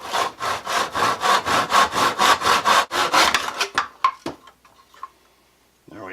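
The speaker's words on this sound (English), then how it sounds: "we're going to put the broomstick in a miter box to get a nice square edge on it and actually do the cutting" A hand saw cuts through a wooden broomstick held in a miter box, with about a dozen loud, rhythmic rasping strokes that slow and stutter as the cut finishes, followed by a few soft knocks and near silence.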